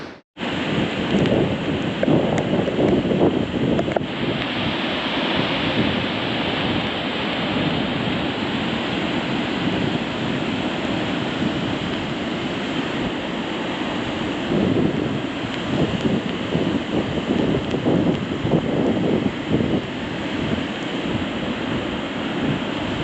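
Stormy ocean surf and wind on the Vancouver Island coast roar as a dense, unbroken wash of crashing waves and gusts, loud and continuous throughout with no voices.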